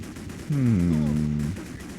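Rapid gunfire from The Punisher video game crackles in the background while a low, droning tone swells for about a second; the sound is steady and fairly loud.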